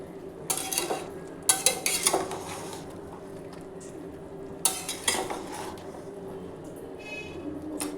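Chicken korma is stirred in a pot after the lid comes off, with bursts of spoon scraping and clinking against the metal, separated by quieter pauses with a low background hum.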